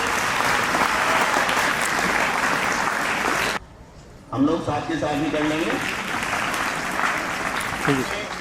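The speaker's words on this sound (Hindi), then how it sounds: "मैं जोरदार तालियां हमारे मुख्य अतिथि के लिए।" Loud crowd applause for the chief guest at a Yatharth Geeta competition event, a dense steady clapping that breaks off abruptly, followed by someone speaking over lighter, continuing claps.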